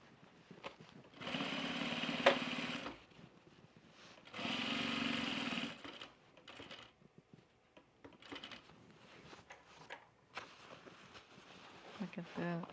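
A sewing machine stitches a fabric laundry basket in two short whirring bursts of about a second and a half each. Quieter handling noises and pauses come between the bursts.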